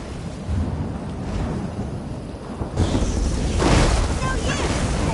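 Thunder from a lightning storm in Elder Scrolls Online, a low rolling rumble under steady rain that swells into a louder crack and roar midway, with no talk.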